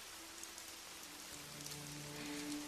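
Steady, gentle rainfall in a calm setting, a soft continuous patter heard alone at low volume with no voices.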